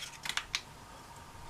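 Scissors cut open a small package holding an Allen key, Allen bolts and the base for a microscope stand kit, giving three or four quick, crisp snips close by, followed by quiet.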